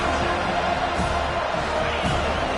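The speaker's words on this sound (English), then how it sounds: "Listen to this crowd just shaking the girders of this place, trying to help their defense" A football stadium crowd at a Clemson vs FSU college game roars in a dense, continuous wall of cheering and noise, loud and sustained, with no clear voice standing out.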